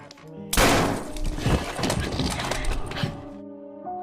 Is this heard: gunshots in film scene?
yes